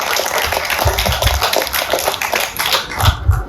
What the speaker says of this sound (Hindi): जोरदार तालियों से स्वागत कीजिए एक माँ बेटी का